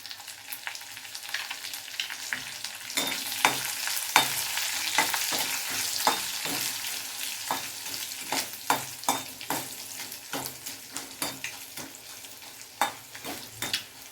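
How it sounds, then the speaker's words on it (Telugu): Curry leaves frying in oil with asafoetida for Andhra-style egg curry, a continuous close sizzle broken by repeated sharp crackles and spoon scrapes, with no voices. "ఇంగు కూడా బాగా వేగింది ఇప్పుడు కొంచెం కరివేపాకు వేయాలి"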